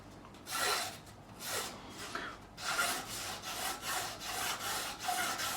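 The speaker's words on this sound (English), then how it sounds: "taking some 400 grit sandpaper like so, and just rounding it over" Close, steady strokes of 400 grit sandpaper rub over the wood of an Epiphone AJ45 acoustic guitar, rounding over an edge in a quick rhythmic back-and-forth rasp with brief pauses and no talk.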